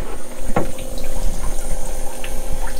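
A water pump runs steadily while processing spot-free rinse water, a loud continuous hum and wash of flowing water with a brief clank near the start.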